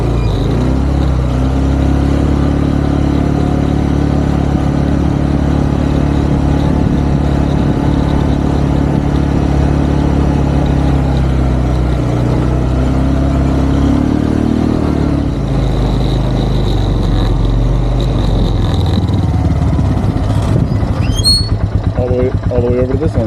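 A tractor engine runs loud and close with a steady low drone and a slight change in pitch partway through, and a few faint clanks near the end.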